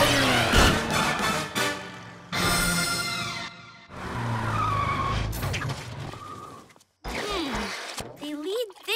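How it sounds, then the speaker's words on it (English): A cartoon cat car speeds away with loud, repeated tire skids and squeals in quick bursts, mixed with engine revving and cartoon effects. "To the cat car!"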